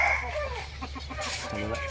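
Young roosters and chickens cluck and call close by in a Thai farmyard, with short throaty clucks and a brief crow-like call over steady background hum.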